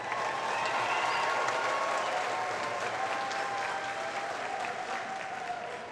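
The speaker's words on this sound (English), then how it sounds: "yeah, that deserves a round of applause." Sustained applause from a large audience at a university graduate commencement ceremony, dense and steady clapping that holds loud for several seconds and tapers only slightly at the end.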